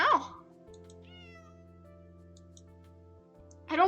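A cat in the video game Arknights lets out two short meows, one at the very start and one at the end, clear and close with a steady low hum between them.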